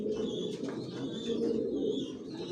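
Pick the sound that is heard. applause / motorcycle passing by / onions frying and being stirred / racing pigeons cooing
racing pigeons cooing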